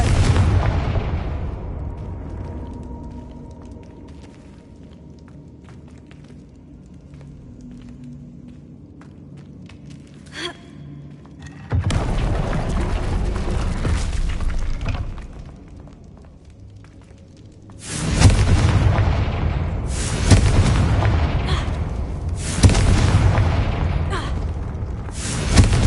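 Confringo spell blasts in Hogwarts Legacy land as heavy booming explosions, several loud sustained rumbling bursts separated by quieter stretches of low ambience.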